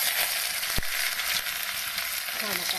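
Chopped onion sizzles steadily in a hot pan for a spicy bitter gourd bhaji, a loud continuous hiss with one brief knock near the start.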